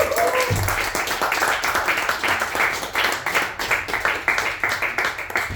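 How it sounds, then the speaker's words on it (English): Audience applause at an improv comedy jam, a steady dense burst of clapping from a room crowd, loud and sustained for several seconds with a voice briefly over it. "Big round of applause."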